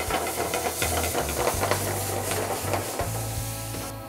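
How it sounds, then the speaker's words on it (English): Liquid poured into a hot pan after cooking bacon and garlic hisses and sizzles steadily, a dense close-up steam hiss with faint scraping as the browned bits are worked loose. "So here I'm gonna deglaze the pan, pull off all the greatness off the bottom of the pan."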